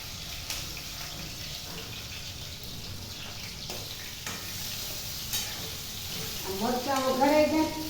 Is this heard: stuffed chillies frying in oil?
yes